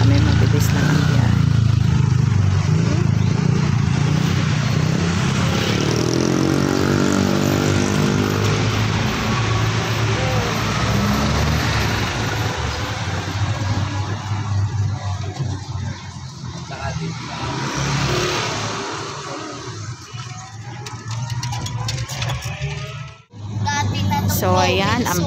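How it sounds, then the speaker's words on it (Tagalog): Steady motor and tyre hum of an e-bike moving through Santa Rosa, Laguna traffic, with surrounding cars and motorcycles idling and passing close by, continuous for the whole stretch with talk running over it. "Naka-e-bike lang kami, mabilis lang ang biyahe."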